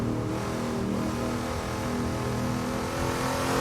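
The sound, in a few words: race cars driving at Bathurst circuit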